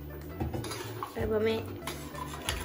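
A jackfruit curry being stirred in a cooking pot with added water, a utensil scraping and clinking against the metal pot in short repeated strokes, close and moderately loud, with no talking.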